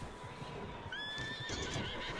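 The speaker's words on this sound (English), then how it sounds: "Sounds like pissed off horses." Agitated horses neighing inside a barn in the video game Red Dead Redemption 2, a couple of shrill whinnies over a background of hoof clatter and shuffling, moderately close.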